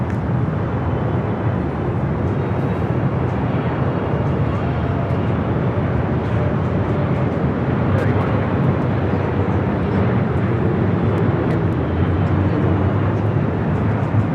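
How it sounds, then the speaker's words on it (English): Steady broad roar of a Boeing 777 freighter jet arriving at Los Angeles airport, loud and continuous throughout, with radio-style talk running over it. "This 777 freighter coming in from Taipei."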